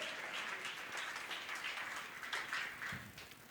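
A church congregation applauding during a sermon, a fairly faint, steady patter of many hands clapping in a hall that lasts throughout, no speech over it.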